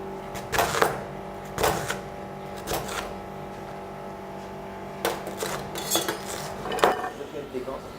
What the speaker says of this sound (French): couper en cubes les patates douces.